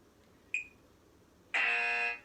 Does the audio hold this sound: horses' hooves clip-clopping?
no